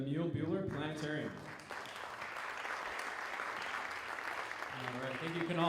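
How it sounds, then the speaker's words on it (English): A crowd at a launch night event applauds as the last speaker is introduced. The clapping swells for several seconds between stretches of a nearby voice talking over it. "please give a round of applause to Derek Demeter from the Mule Bueller Plane"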